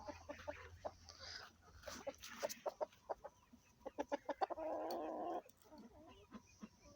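Farmyard poultry, hens and geese, clucking in short irregular bursts at close range, with a brief scratchy rustle partway through and quiet background between calls.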